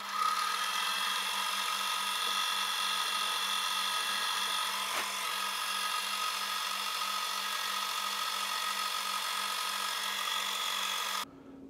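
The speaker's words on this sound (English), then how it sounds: "the next job is to drill four holes in these bearing journals" Drill boring holes in metal bearing journals, a steady high-pitched whine held for about eleven seconds before stopping abruptly.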